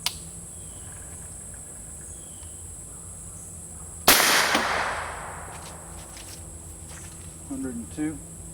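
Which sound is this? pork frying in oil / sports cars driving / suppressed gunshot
suppressed gunshot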